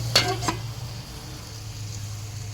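Spinach cooking in a pan on the stove, stirred with a spatula: two quick scraping strokes near the start over a steady low hum and faint sizzle, then the pan settles back to a quiet, even simmer.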